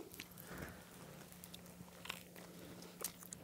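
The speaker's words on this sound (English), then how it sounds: "Oh, I heard the crunch." A bite into a burger on potato bread gives a few soft crunches and chewing sounds, quiet and close, with small clicks scattered over a faint background hum.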